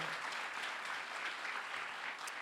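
A round of applause from the crowd at a Working Families Party statewide gathering, dense and even clapping that holds steady without talk.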